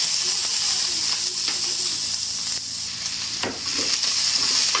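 Onions hit hot oil with fennel seeds and spices for an egg curry, giving a loud, continuous close-up sizzle with a few soft stirring taps and clinks, and no talking.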